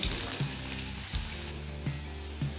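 Potato pieces fry in hot oil for a hilsa fish head and elephant-foot yam dish, with a loud, steady, close sizzle and a few soft stirring knocks, no talk.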